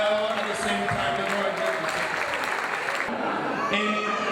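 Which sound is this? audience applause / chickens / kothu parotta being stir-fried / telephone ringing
audience applause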